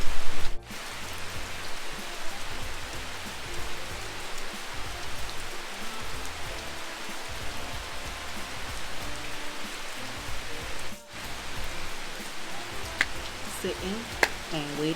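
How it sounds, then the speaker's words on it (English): Steady rain falls on a surface in Thailand, a dense, even hiss that runs without a break apart from two brief dips. "Sitting and waiting for this rain to stop."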